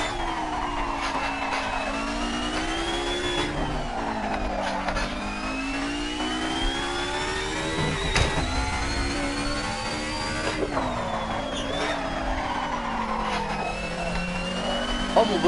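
In a racing video game, a touring car engine drones loudly and without a break, its pitch rising and falling through gear changes as the car accelerates and brakes.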